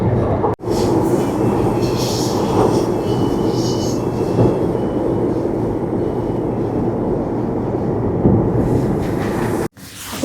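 A fast train runs through Shanghai near Longyang Road with a loud, steady rolling rumble that holds for the whole stretch, broken only by two brief dropouts at the start and end.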